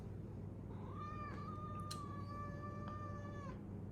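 A pet cat called Mr. Kitty lets out one long, drawn-out meow that rises, holds steady, then fades, sounding fairly close over a constant low background hum, with no talking.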